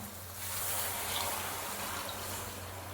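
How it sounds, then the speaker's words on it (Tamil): Tamarind water is poured into a pot while cooking garlic kuzhambu, giving a soft, steady splashing trickle that runs for a few seconds at low level with no talking. "இப்போ நம்ம புளி தண்ணி ஊற்றிக்கலாம்"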